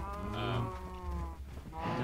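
Cows in the video game Minecraft moo in a couple of drawn-out, low lowing calls close together, clear and alone with no talk over them.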